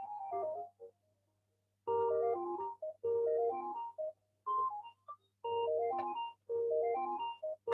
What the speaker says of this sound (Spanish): justo está sonando el teléfono